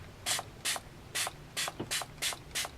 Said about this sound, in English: Spray the water.